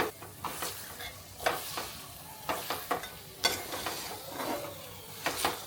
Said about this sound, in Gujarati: ખજૂર ઘીમાં શેકવાનો